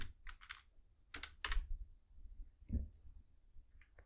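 Computer keyboard typing while searching for the Python extension in VS Code: a few quick bursts of key clicks with short pauses between, close and fairly quiet, no talking.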